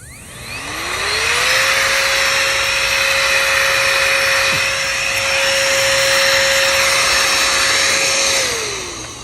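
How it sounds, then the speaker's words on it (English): A KOONIE battery-operated rechargeable air duster spins up and blows leaves, a loud, steady high-pitched whine and rushing air held for several seconds before winding down, close and alone. "I'll go ahead and blow some leaves here."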